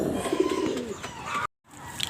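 Racing pigeons coo in low, rolling murmurs close by, with a few faint chirps, as the birds are readied for release from a homemade training box.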